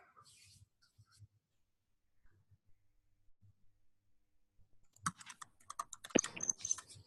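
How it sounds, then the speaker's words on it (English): Computer keyboards clatter during an online meeting, starting as faint scattered keystrokes and growing into busier, closer typing near the end. "I hear some keyboards going."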